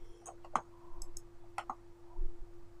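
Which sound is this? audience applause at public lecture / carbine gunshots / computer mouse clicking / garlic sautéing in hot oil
computer mouse clicking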